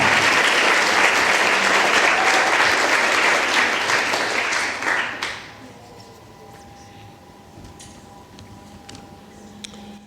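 Audience at a women's soccer awards reception applauding the All-MVC second team: loud, sustained clapping for about five seconds that drops off abruptly, leaving a quiet room with faint murmurs.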